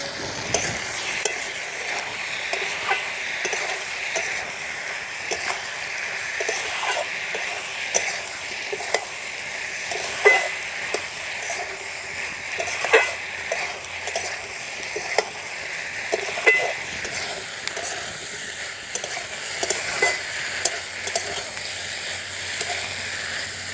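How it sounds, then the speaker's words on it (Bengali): Pointed gourd and shrimp sautéing in a pan in a village-style home kitchen, a continuous close sizzle with frequent scraping and stirring strokes of a spatula, no talk. "সবগুলো একসঙ্গে ভালো করে কষে নেব"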